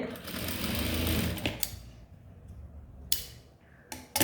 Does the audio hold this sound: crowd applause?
no